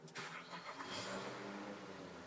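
A 2014 Nissan Teana 2.5XV sedan with a 2.5-litre engine and push-button start fires up nearby, a brief crank catching into a steady idle with a rising whir at the start.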